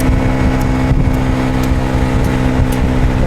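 A Victoria Nicky 125cc classic scooter rides across the Ilsan Bridge. Its engine drones loud and steady, mixed with constant wind rush and no breaks.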